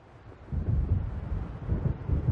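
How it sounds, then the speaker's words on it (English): Deep, rolling thunder from a storm approaching in the video game Alan Wake, a low rumble that swells after a quiet start and keeps grumbling for about two seconds, with no voices. "It seems there's a storm coming."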